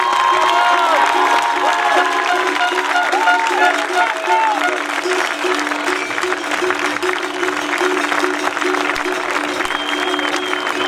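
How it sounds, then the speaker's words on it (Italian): An outdoor awards ceremony crowd at a skyrace gives an athlete sustained applause with some cheering, steady and full throughout while an announcer speaks over it. "questo applauso è tutto per te"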